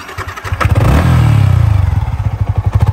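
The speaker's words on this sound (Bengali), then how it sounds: "এটা হচ্ছে ইঞ্জিনের সাউন্ড" A Yamaha R15 motorcycle engine runs close up, rising briefly in a rev from a choppy, throbbing idle and then settling back to a rapid pulsing idle.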